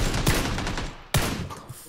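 Gunfire in the battle royale game PUBG sounds as two loud, sharp bursts about a second apart, each trailing off quickly over steady background game noise, with no speech.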